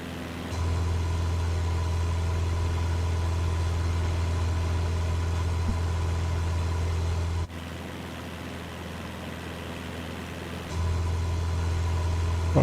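A small plane's engine drones loudly inside the cabin in Microsoft Flight Simulator while climbing at 2,600 RPM near Santa Maria, California. The hum is steady and continuous, dips briefly midway, then returns to full strength.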